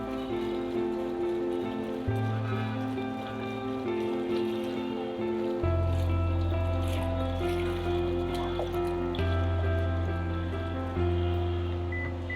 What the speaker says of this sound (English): Carefully pour out your kerosene.